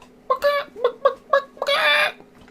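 A person's voice mimics a chicken, giving a quick series of short clucks followed by a longer, drawn-out squawk, close and clear.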